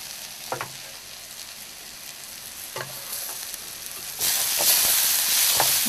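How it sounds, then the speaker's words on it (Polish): Chopped wild mushrooms tossed into a pan with softened onion give a quiet sizzle, with a few scraping stirs of a utensil, then a louder, denser frying hiss takes over near the end. "Jak już trochę się podsmażą nasze grzyby"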